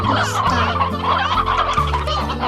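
A rooster in the video game Slime Rancher clucks continuously and loudly over a game's stepped background music, with no talking.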